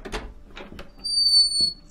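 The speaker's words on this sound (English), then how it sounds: "Why are the doors so loud?" A door in a house at midnight squeaks in a few short creaking bursts, close and fairly loud, followed by a longer thin whine as it swings open, with no talking.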